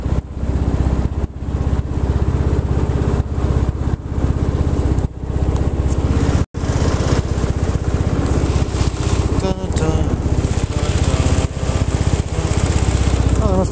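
A boat motor idles while moving along the Skagit River. It gives a steady, buzzy, close engine drone that continues almost without a break, with brief dips and occasional talk over it.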